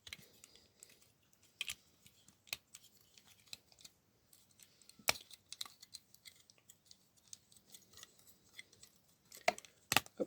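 Small sharp plastic clicks and snaps from a Transformers Cyclonus toy figure being transformed, scattered irregularly over quiet, close and crisp.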